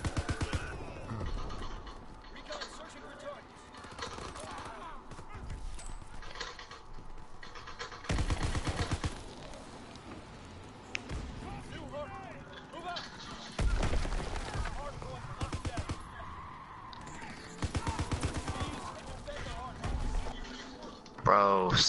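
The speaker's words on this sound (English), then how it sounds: "Bro, stop with the shotgun. You just killed me right now." Bursts of close gunfire in a WW2 zombie-horde shooter, with heavy booming shots at irregular intervals amid weapon handling clatter and players talking over the action.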